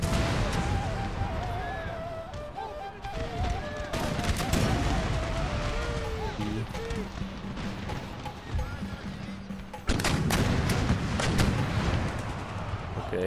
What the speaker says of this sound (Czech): Tady výstřel.